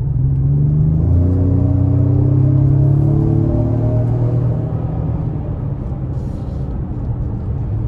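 A 2025 Ford Explorer ST Line with a 2.3-litre turbo four-cylinder pulls hard from about 20 to 50, its engine drone rising steadily in pitch for several seconds, heard from inside the cabin before the note settles lower.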